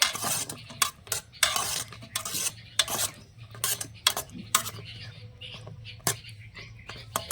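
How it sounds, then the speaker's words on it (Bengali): Carrot sweets stirred in hot sugar syrup, a spoon scraping and clinking against the pot in a string of sharp strokes over a low steady hum. "একটু নেড়ে চেড়ে মিশিয়ে নেবো"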